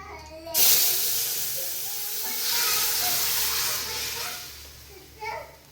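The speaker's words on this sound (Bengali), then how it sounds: "দিয়ে দেবো ফোড়ন।" Spices tempered in hot oil with thankuni (Indian pennywort) leaves for a curry give a sudden loud hiss that starts after a short pause and keeps sizzling steadily, with a brief flare near the end.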